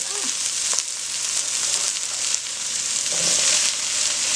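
Onions and carrots fry in a pan for a low carb stir fry, giving a steady, close, loud sizzle with crackling spatter throughout and faint stirring or clinking now and then.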